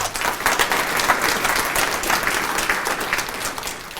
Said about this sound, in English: That's deserving of a round of applause